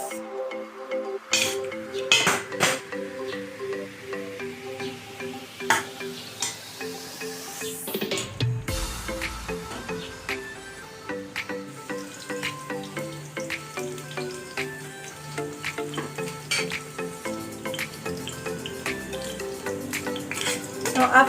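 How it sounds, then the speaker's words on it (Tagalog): Garlic and onion sautéing in a pan for a beef mechado, a steady sizzle and crackle of frying with stirring clatter, under background music. "gisa muna natin itong bawang at sibuyas."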